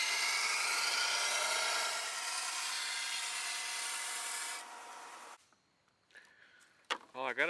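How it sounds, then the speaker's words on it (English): A hand file rasps steadily across the feather edge of a Colombian machete, a continuous near scraping for about five seconds before it stops, followed by a few faint knocks and handling noises. "I can tell with the file's not biting it very good at all"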